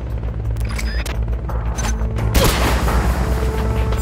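In Metal Gear Solid Peace Walker, a helicopter goes down with a loud booming explosion and crashing debris over constant game background music and rumble, the blast hitting partway through and lingering as noisy wreckage.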